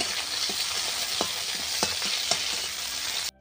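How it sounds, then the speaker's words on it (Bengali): Bitter gourd fries in oil for shukto with a steady, close sizzle broken by a few soft stirring clicks, then stops abruptly. "শিমটা আমি ভেজে তুলে নিয়েছি, আর করলাটাও এখানে ভাজতে দিয়ে দিয়েছি"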